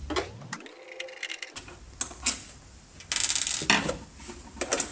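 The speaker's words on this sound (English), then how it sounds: "For this, you'll need a Phillips screwdriver, which I have handy here. Undo the compartment." A Phillips screwdriver undoes the screw on a weather station sensor's battery compartment, giving a few short scraping, ratcheting bursts of metal on plastic at close range, spread unevenly and separated by quiet pauses.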